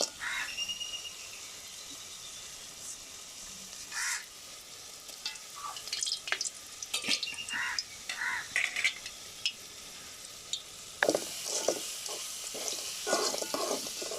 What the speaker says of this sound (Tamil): இப்போ அலசி வச்சுருக்கிற நண்டை போட்டுக்கலாம்